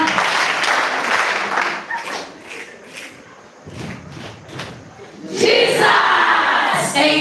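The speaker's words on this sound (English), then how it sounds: "Can we clap for Jesus for that program?" A crowd at a live religious pilgrimage gathering applauds and cheers, clapping rising and dipping in waves before surging again loudly near the end, with shouts mixed in.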